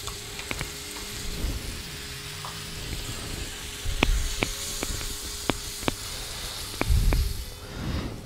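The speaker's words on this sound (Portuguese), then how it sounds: "Deixar refogar um pouco aqui. Pimentão refogado." Bell peppers sauté on a plough-disc pan with a continuous sizzle. Sharp metallic taps from stirring cut through the sizzle at irregular intervals, and no voices are heard.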